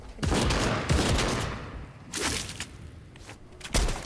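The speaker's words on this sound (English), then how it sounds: "I just heard shooting straight at me." Bursts of rapid gunfire in an online shooter video game, several loud volleys in quick succession with short gaps between them, close and punchy.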